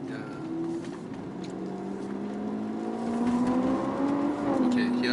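A car drives along a road, its steady engine hum rising slightly in pitch as it gathers speed, close and continuous throughout.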